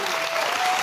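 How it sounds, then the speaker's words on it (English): A live audience at a motivational talk applauds, a dense, steady burst of clapping that fills the short moment at full volume. "Give him a round of applause."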